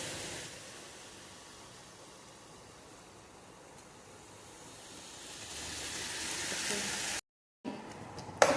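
Blended tomato sizzling in a pan with onion, ginger and garlic, a soft, even frying hiss that swells toward the end, then a sudden brief silence and a few small clicks.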